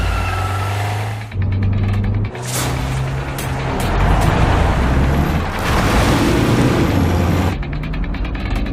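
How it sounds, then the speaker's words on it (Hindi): A car engine hums steadily under a low mechanical drone as it drives along, trailing a taxi through traffic, loud and close with a ratcheting, rumbling texture and no talk. "इतना कहने के बाद राज ने अनन्या की कार निकाली और सबके साथ अभिनव जिस टैक्सी में था"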